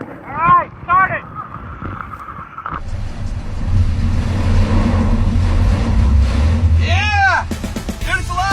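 A Chevy LUV pickup truck engine cranks briefly, catches and settles into a steady, loud, close idle, with excited voices talking and cheering over it at the start and end.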